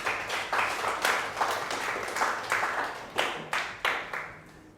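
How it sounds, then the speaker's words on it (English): A room full of people applauds, the clapping swelling in repeated waves of broadband patter with brief surges, fairly close and steady throughout, with no voices over it. "Let's give it a round of applause."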